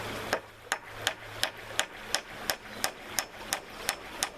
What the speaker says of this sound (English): And we'll hammer that home.